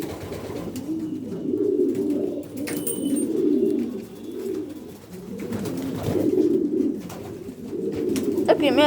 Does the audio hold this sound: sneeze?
no